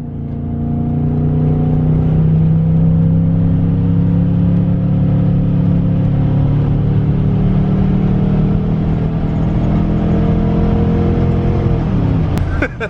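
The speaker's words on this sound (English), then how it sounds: "We're out in the suburban, bro. We gotta do ourselves a draggy run." A Chevrolet Suburban on a drag run gives a loud, close engine drone that climbs steadily in pitch through the gears, a long sustained acceleration heard from inside the vehicle.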